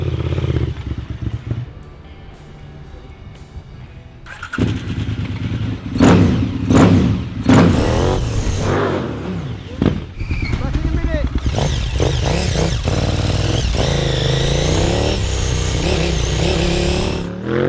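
A custom supermoto motorcycle engine fires up and revs hard in bursts, loud and close, with clattering thumps and brake noise between throttle blips, while a rider talks over it.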